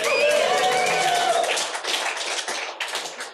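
A crowd at a live event in Amsterdam claps in dense applause that starts loud and slowly thins out, with a voice briefly heard over it.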